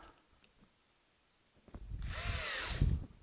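A power drill whines briefly as it drives a screw into a wooden tray mold, a short close burst rising after a quiet start.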